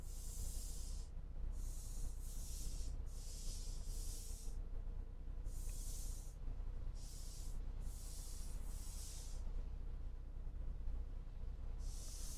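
Spray painting a Pokeball design in the video game Ark: repeated short hissing spray bursts of about a second each, in an irregular rhythm over a steady low background hum.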